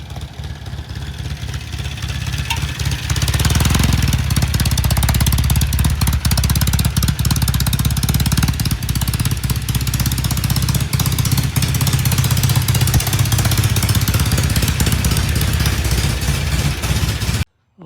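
A yellow Norton motorcycle engine runs on a test ride, a loud, steady mid-pitched rumble that builds over the first few seconds and holds throughout, close to the listener, then cuts off abruptly at the end.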